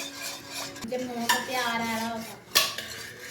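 Spoon stirring milk in a metal pot for a creamy pasta sauce, with close scraping and clinking against the pot, a few sharper knocks, and a faint sizzle underneath.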